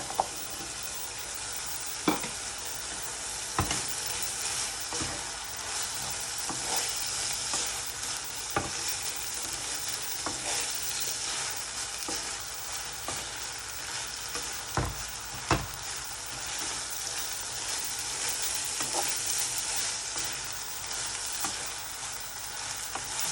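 Carrots fry in a pan for Nigerian meat pie filling, a loud steady sizzle broken by sharp clacks and scrapes of stirring at irregular intervals, with no voices.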